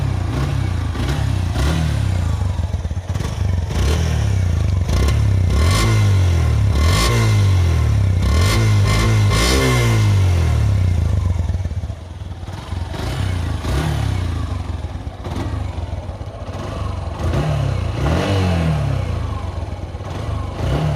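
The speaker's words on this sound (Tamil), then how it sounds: "அங்கே வண்டியோட எக்ஸாஸ்ட் சவுண்ட் எப்படி இருக்குன்னு பார்ப்போம்." A Suzuki Intruder motorcycle with about 30,000 km on it idles loudly close by with a deep, throbbing exhaust, rising in several revs before settling back toward a rumbling idle.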